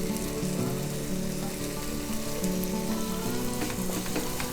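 Onion frying in a pan for chicken pasta, a dense continuous sizzle with a low steady hum beneath, close and loud throughout, no voices.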